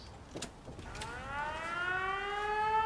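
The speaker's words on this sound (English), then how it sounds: "When this guy sees somebody, he's going to activate this siren." A video game siren in a PS4 settlement build winds up and rises steadily in pitch, growing louder over a few seconds after some faint clicks, synthetic and clear with no talking.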